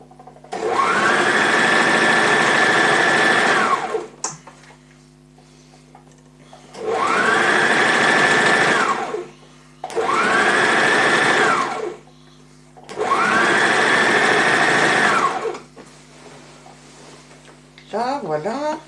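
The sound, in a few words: sewing machine stitching skirt fabric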